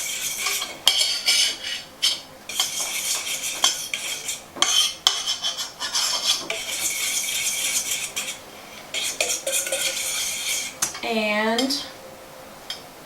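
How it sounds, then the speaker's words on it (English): Spoon stirring vanilla into a homemade honey-sweetened chocolate mixture in a bowl, irregular scraping and clinking strokes with pauses, close up, ending in a short squeak. "Stir that in."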